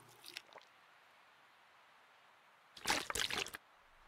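A character eats food in The Long Dark survival game, with a brief squishy bite near the start and then a louder, longer burst of wet chewing and crunching after a quiet gap.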